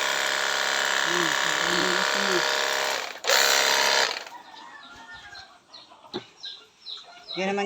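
A mother hen on a farm clucks in short low bursts over a steady mechanical drone, which then cuts out, leaving quieter scattered bird calls and faint movement.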